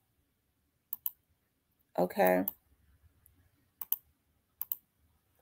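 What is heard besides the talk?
computer mouse clicking through browser tabs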